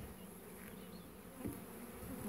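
Honeybees buzz steadily at an open beehive in a spring apiary, a dense continuous drone close by, with a brief louder swell about midway as bees move near.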